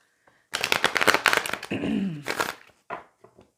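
A deck of tarot cards shuffled by hand, bursts of rapid riffling and flapping card noise in quick clusters, loud and close, separated by short pauses.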